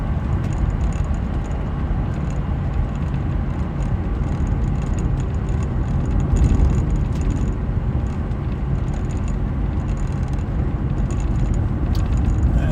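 A 1993 Jaguar XJS 6.0 V12 coupe on the move, giving a steady, fairly loud broadband rumble of engine and road noise from inside the car, with light rattles over it and no talk.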